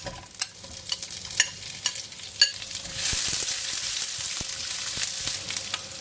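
A wok or pan for a Chinese sausage angel hair stir-fry clatters with a few scrapes and taps, then onions drop into the hot oil and burst into a loud, steady sizzle that carries on to the end.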